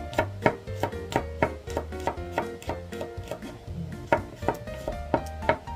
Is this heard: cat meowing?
no